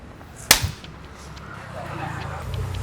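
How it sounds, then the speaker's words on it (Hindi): A single sharp slap sound effect in a Hindi drama scene, hitting as one loud crack early on, followed by a quieter low room rumble with no talking. "आपने इनको थप्पड़ क्यों मारा?"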